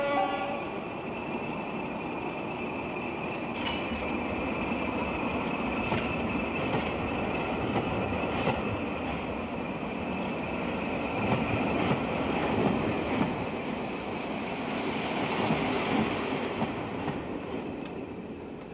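Interior of the Orient Express rolling along the rails: a continuous low rumble with rhythmic wheel clatter and occasional faint metallic squeals, steady throughout and with no talking.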